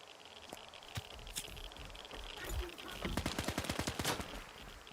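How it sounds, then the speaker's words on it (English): Rapid gunfire in Stalker 2 as rats are shot, scattered single shots giving way to a fast run of evenly spaced bursts, fairly close and sharp over a low background rumble. "they're just shooting rats"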